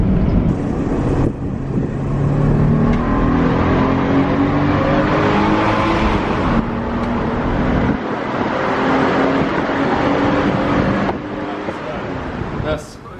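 A JDM car drives with a steady engine drone and road noise, gear-change dips breaking the sustained loud sound, with talk faintly underneath.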